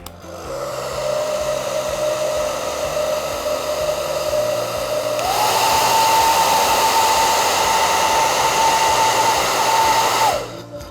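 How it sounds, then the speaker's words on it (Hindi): A hair dryer blows steadily and loudly for about ten seconds, with a broad airy rush and a motor whine that steps up in pitch midway as the speed is raised, then cuts off. "आप इसको हेयर ड्रायर की मदद से भी कर सकते हैं।"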